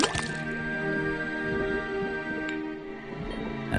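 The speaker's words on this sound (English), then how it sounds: "Then tap the faucet." Liquid dripping from a tapped faucet into a cauldron in the Detective Grimoire game, a steady run of small wet drips and squishy plops over a droning musical background, with no talk.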